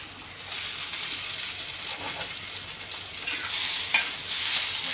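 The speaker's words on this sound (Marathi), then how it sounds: "ते एक मिनटा कलसून घ्यायचं आहे आलू" Finely chopped potato is stir-fried in a pan, giving a continuous close sizzle with bright scraping as it is tossed, growing louder toward the end; no one talks.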